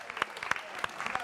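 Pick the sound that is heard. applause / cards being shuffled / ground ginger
applause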